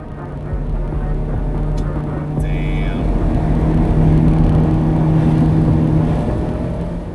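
A Mazda Miata with a manual gearbox drives along with a steady, moderately loud engine drone and road rumble throughout, with no talking.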